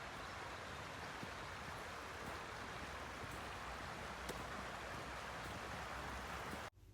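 The Sauer River flowing past Echternach, a steady broad rush of moving water heard outdoors at even level, cutting off abruptly near the end.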